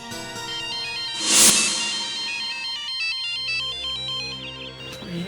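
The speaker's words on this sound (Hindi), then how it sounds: "ये तो मैडम की रिंगटोन है।" Mobile phone ringtone ringing inside a house, a loud electronic melody playing alone and continuing for several seconds.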